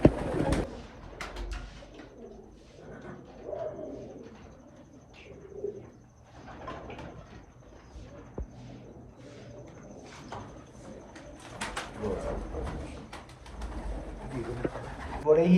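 Large pigeons coo repeatedly in low, throaty rolls, fairly close, with rustling and faint background voices between calls.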